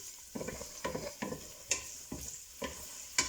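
Pork ribs and chorizo fry in a pan, a steady close sizzle broken by rhythmic scraping strokes as the meat is stirred roughly every half second, with no voices.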